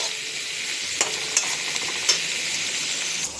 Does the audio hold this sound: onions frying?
yes